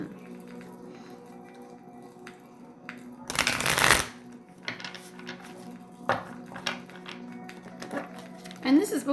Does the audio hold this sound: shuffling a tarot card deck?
yes